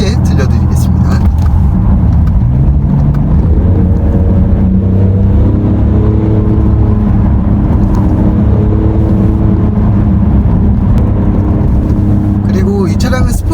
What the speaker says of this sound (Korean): 배기 소리를 좀 더 크게 들려드리겠습니다.